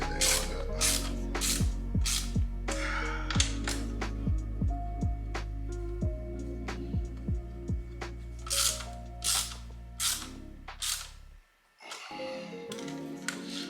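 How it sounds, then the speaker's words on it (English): Ratchet tightening the seat mounting bolts in an EG Honda Civic hatchback, a quick run of close, loud clicking pulls in repeated bursts before stopping with a brief silence. "you can go ahead, you can actually tighten them"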